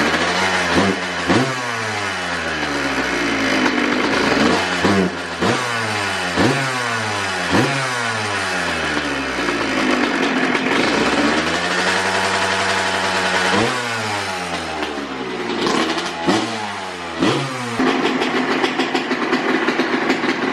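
A Honda CR125 two-stroke motorcycle engine with worn exhaust packing revs repeatedly, loud and close, its pitch sweeping up and down in rapid bursts with a longer rising and falling rev midway.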